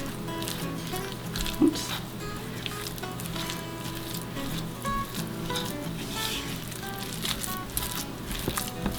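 Ricotta and Parmesan cheeses stirred together in a bowl, giving soft, steady squishing and patting under a low background hum, with one brief spoken word.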